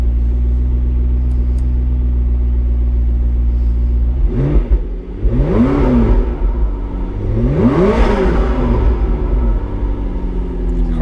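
Engine of a 2012 McLaren MP4-12C revving hard from a steady idle drone, with three rising-and-falling throttle blips about two seconds apart, loud and close.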